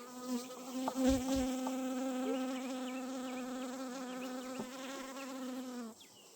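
Honey bees at a hive inside a greenhouse, infested with small hive beetles, make a close, steady buzzing drone that holds level for several seconds before cutting off near the end.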